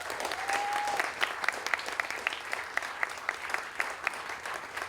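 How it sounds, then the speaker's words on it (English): Light applause from a modest crowd at a university building construction celebration, a sparse patter of individual claps with distinct sharp hits, fairly quiet and distant, and a brief whistle-like tone early on. "Please, just a little round of applause if you don't mind."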